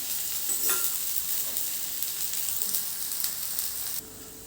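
Thalipith, a Maharashtrian flatbread, fries in oil on a pan with a continuous crackling sizzle that drops suddenly quieter near the end.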